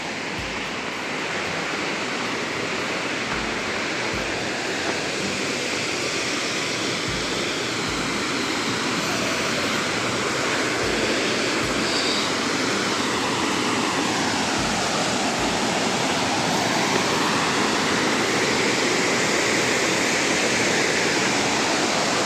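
A steady, roaring rush of falling water from Dhodhani waterfall near Panvel, Maharashtra, loud and continuous without a break.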